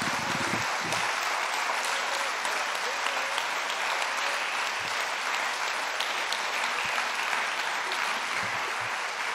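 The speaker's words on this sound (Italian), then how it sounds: "questo è un applauso" An audience at a conference fills the room with steady, sustained clapping for about nine seconds, a dense, even patter heard at moderate level from within the hall, with no voices over it.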